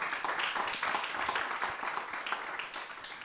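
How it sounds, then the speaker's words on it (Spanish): An audience at a book talk applauds in a soft, dense patter of clapping that keeps a steady level throughout the short stretch. "yo quiero dar un aplauso a la diáspora puertorriqueña y el reconocimiento a ustedes"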